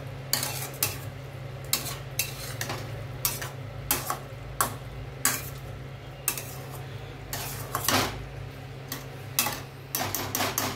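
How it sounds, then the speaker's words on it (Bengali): Salt and spices are mixed into chicken in a metal pot for masala pulao, heard as repeated scraping and clinking strokes of a spoon at an irregular rhythm, with a faint sizzle and a steady hum underneath. "আমি একটু মাখিয়ে নিচ্ছি মশলাগুলো"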